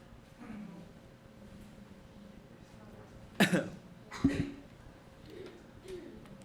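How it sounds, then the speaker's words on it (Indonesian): A couple of sharp coughs break through quiet room noise, one after the other about a second apart, with faint murmuring voices around them. "Ternyata banyak yang batuk juga ya."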